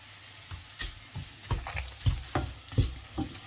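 Tomato masala with coconut being sautéed on a medium flame for Chettinad thakkali thirakkal, with a soft steady sizzle and a series of scraping stir strokes, close and fairly quiet, no talking.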